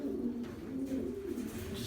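A racing pigeon cock bird coos in a breeder loft, a low, soft, continuous cooing murmur over steady background noise, fairly faint and with no one talking.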